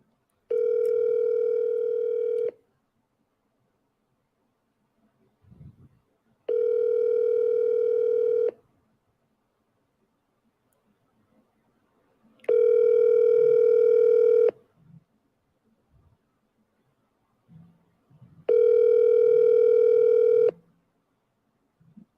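An outgoing phone call rings without being answered: four long, evenly spaced electronic ring tones, each about two seconds, separated by gaps with faint background rustle.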